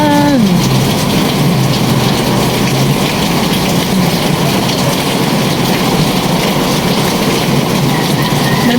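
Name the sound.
rain falling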